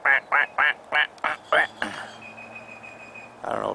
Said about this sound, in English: Look at this little duck right here.